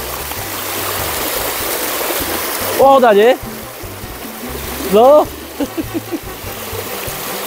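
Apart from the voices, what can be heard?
bicycle riding through floodwater on a bike path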